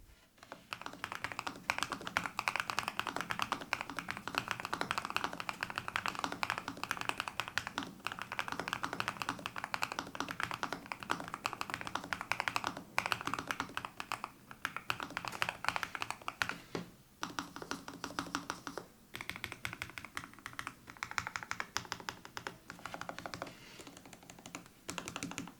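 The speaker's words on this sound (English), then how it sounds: "keystrokes land with a soft, marbly note rather than the sharp thud many mechanical boards chase" Raw typing on a Lofree Flow 2 mechanical keyboard produces a continuous, fairly quiet stream of soft, rounded keystrokes at a steady typing pace, heard close up with no voices.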